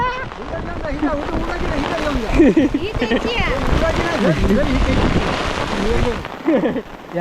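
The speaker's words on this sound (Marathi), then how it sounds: "पाऊस आला रे पाऊस आला" Heavy monsoon rain pours over a Konkan paddy field during rice transplanting, a dense steady hiss under loud, close voices of several people talking and laughing throughout.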